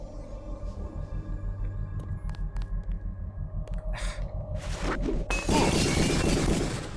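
Glass shatters loudly in the game Deus Ex, a sharp crash and spray of breaking shards that follows a low throbbing hum and several scattered thuds.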